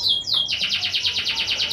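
A female local canary in a small cage chirps close by, a fast, even run of bright repeated tweets after a brief opening call.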